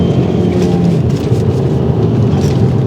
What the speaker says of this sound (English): it makes some good turbo noises, listen to that